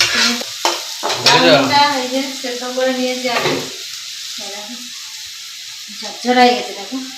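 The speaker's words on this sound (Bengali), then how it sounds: "ভাজা ভাজা হয়ে গেছে মশলাগুলো ভাজা হয়েছে" Vegetables with capsicum, potato and onion plus spices stir-frying for homemade chow mein, a steady sizzle with bursts of spatula stirring, while people talk over much of it.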